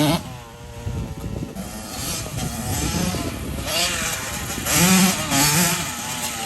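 A Honda CR125R two-stroke dirt bike engine runs close by with a raspy, uneven buzz that rises and falls through several revs. Voices talk faintly beneath it.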